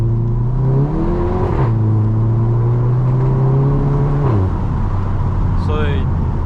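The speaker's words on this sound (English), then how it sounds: "You get all the noise and performance you would want from this exhaust" A Volkswagen Golf GTI Mk7.5 exhaust revs repeatedly, the engine note climbing and dropping in deep, loud bursts with a steady rumble between.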